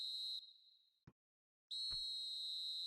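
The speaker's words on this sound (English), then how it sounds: "And there goes the final whistle." Referee's final whistle in eFootball PES 2020, two long shrill blasts separated by a brief pause, loud and clear with a short thump between them.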